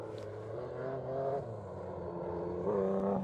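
A BMW M3 rally car in two-wheel drive runs a stage of the Oregon Trail Rally, its engine droning steadily at moderate distance with a rising, revving pitch toward the end.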